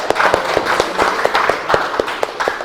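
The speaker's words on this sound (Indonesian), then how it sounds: "Tepuk tangan dulu." A small group claps after a class group presentation, with distinct hand claps in a loose, steady rhythm, fairly close and continuous throughout.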